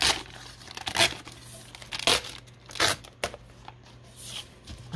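Paper being torn by hand to make faux rice paper, several slow ripping strokes with crinkling between them, close and fairly quiet, no talking.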